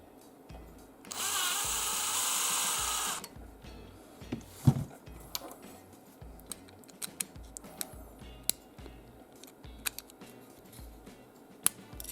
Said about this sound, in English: Let's drill it a little more.